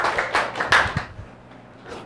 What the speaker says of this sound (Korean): 우리 큰 박수로 우리 환영해주세요